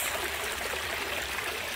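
Water trickles steadily from a front-yard water feature on a cold winter day as ice begins to form, giving a continuous close rushing splash with no talk.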